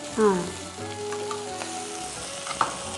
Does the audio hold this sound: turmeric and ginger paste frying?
yes